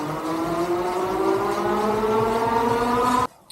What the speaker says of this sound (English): let's see what one motor in kind of the eco mode, I guess, will do